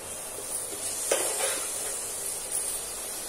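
Soft, steady sizzle of grated coconut and sugar cooking down in a pan for modak, a faint continuous hiss with a couple of light stirring scrapes.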